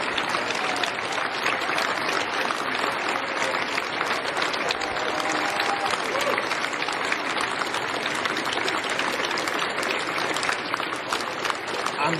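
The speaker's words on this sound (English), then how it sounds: "And the applause inside" Applause from a gathered crowd indoors as an arriving leader is greeted by the Cabinet Secretary, a dense steady roar of clapping that holds evenly throughout without any clear voices.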